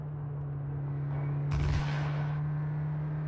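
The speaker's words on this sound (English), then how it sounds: "We're just casually driving past some gunfire." Gunfire in the video game Cyberpunk 2077 heard while driving past: a single sharp burst of shots rises over a steady engine hum midway through, then fades back under the drone.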